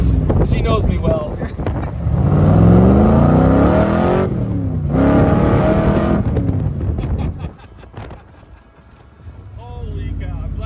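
A car driven hard pulls through long climbing engine revs that rise, cut off briefly, then rise again loud and close, wind buffeting the microphone, before easing to a lower drone.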